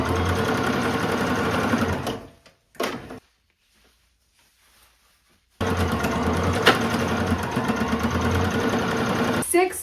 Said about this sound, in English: we can do a straight stitch down each side.